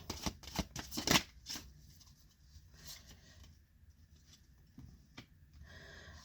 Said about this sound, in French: je vais tirer quelques cartes en plus